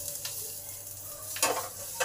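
Spices and curry leaves frying in hot oil in a pan for aloo kulcha filling, a steady close sizzle broken by two louder bursts of crackling as the mixture is stirred, no voices.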